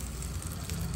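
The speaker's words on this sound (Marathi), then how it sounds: "आपण जी फोडणी बनवलेली आहे ती ह्याच्यावरती आपण टाकून घेऊया" Hot tempering with curry leaves poured over raw mango chutney, giving a steady, soft crackling sizzle that stays close and even throughout.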